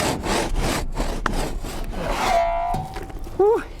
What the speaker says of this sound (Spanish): Al tradicional sistema de labrar vigas a hacho le sustituyó el corte con la sierra mecánica.